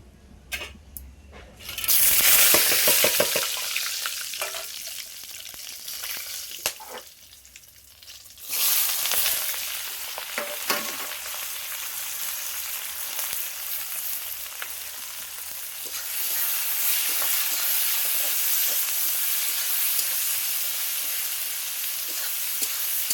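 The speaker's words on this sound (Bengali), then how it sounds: "দেখো এদিকে কড়াতে তেল দিয়ে আমি আলুটা ভাজতে বসিয়ে দিয়েছি।" Potatoes frying in oil in a kadai for a Bengali chicken dish, a loud burst of sizzling at first, then a steady hiss continuing alone with occasional stirring clatter.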